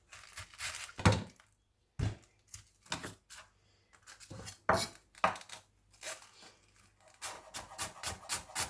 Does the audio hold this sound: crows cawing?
no